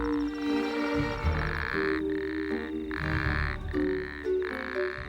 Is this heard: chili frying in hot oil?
no